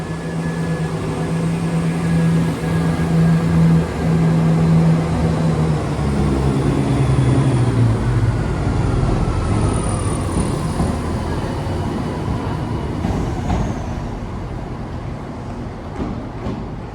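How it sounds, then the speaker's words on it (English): A train, unit 17416, pulling away from a station bound for Worksop on the Nottingham line, a loud steady engine drone and rolling rumble that holds for the whole stretch with no voices over it. "there goes 17416 to Worksop"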